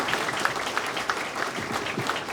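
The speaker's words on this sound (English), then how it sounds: "Let's give all our elected officials another warm round of applause" A crowd at a state senator's re-election campaign event claps for elected officials, a short burst of scattered, fairly close hand claps.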